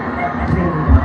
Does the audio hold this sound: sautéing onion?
no